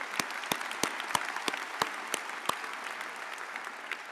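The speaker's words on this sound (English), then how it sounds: "One more round of applause" Audience applause at the UNMC College of Medicine convocation, heard as a moderate crowd clapping steadily with sharp, distinct hand claps standing out through the sound.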